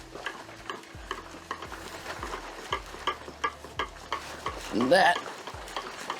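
Oak chips being stirred into Chile Merlot wine must, giving a steady run of close scraping, swishing strokes with a louder splashy burst near the end, with brief talk over it.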